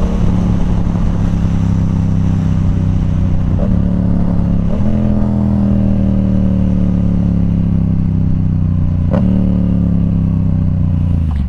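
A Yamaha R7 motorcycle fitted with an aftermarket exhaust idles loudly and steadily up close, its pitch sagging and rising slightly, with a few sharp blips of the throttle breaking the drone.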